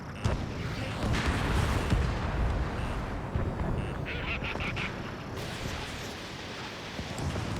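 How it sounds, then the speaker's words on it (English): A missile launches from an F/A-18F Super Hornet Block II fighter jet in Ace Combat 7 with a loud, sustained roaring rush over dense combat noise, easing slightly toward the end. "Strider 1, missile launched."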